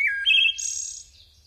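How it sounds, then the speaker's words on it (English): Wood thrush song rings out alone and clear, a short run of rising flutelike phrases ending in a higher, fading trill, close and bright against a quiet background. "I love the sound of the wood thrush."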